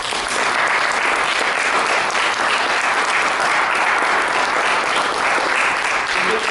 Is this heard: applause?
yes